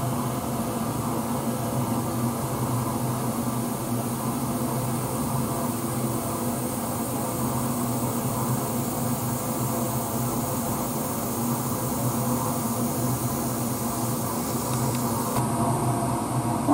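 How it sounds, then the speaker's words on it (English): Air hisses steadily as a vacuum chamber vents through a hole while preparing epoxy sample mounts, a broad continuous rush at moderate level holding for several seconds. "There's a hole there that will vent the vacuum."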